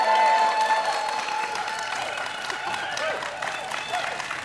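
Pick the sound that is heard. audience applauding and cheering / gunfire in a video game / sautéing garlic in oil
audience applauding and cheering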